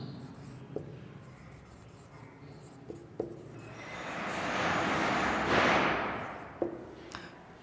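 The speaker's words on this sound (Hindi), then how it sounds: "दूसरा नंबर लिखता हूं मैं तीसरा नंबर लिख देता हूं" A pen writes numbers by hand during an English lesson, giving soft scratching strokes with sharp taps, then a longer, louder scratchy stretch in the middle before more light taps. Close and quiet, with no talking.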